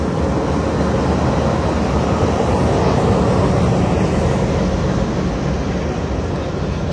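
A Narayanganj commuter train locomotive rumbles in a loud, steady roar, low and broad, holding constant with a slight swell midway, heard up close without pause.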